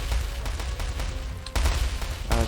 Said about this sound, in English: my tanks are just firing their machine guns while moving